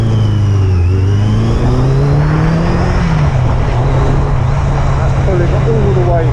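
Yamaha XJ900S Diversion motorcycle engine revving after a carburetor balance, a loud steady drone that climbs and falls smoothly through the rev range, close by with no voices.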